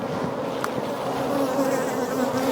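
Honeybees buzz steadily at an overturned hive, a dense, continuous hum that fills the whole stretch at close range with no talk over it.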